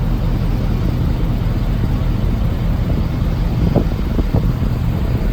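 A 2019 Ford F-650 truck, tuned to 800 horsepower, idles steadily at a weigh station with a loud, constant low rumble and a few brief higher knocks near the end.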